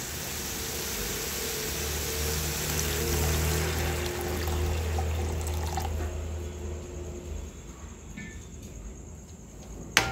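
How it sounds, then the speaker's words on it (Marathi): Water pours into a spiced egg bhurji curry in a pan, a close, steady gush that slowly thins out before a small clink at the end. "आता यामध्ये आपण पाणी घालून घ्यायचं आहे।"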